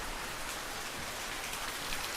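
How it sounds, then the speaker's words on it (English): Steady rain falling everywhere outdoors, a dense even hiss of drops on surfaces, close and continuous with no voices. "it's fucking rain everywhere"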